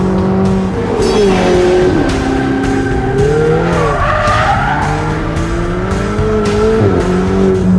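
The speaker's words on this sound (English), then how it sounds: "it's my first drive in the Ferrari 488 GTB" Ferrari 488 GTB sports car driving on the Fiorano track, loud engine heard close with shifting pitch as it accelerates and turns, tires squealing throughout.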